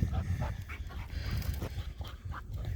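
Dog panting up close while retrieving an elk shed antler outdoors, with quick, rhythmic breaths and a few soft whimpery sounds in a brief burst.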